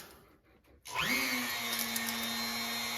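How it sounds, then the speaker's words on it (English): Motorized buffing wheel spinning up and running steadily while polishing a scratched Holton H181 trombone slide with red rouge compound, a close, continuous whine with a rising pitch at startup and no talk. "I just want to come in here and buff it down. So I've got my red rouge."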